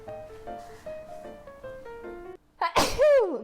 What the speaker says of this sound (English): Sneeze into the elbow.